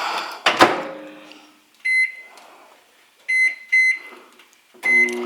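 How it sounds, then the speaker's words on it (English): A microwave hums briefly, then emits a series of sharp electronic beeps in three short bursts, close by with no talking. "we're gonna pop this in the microwave. And that goes in for like 1:30."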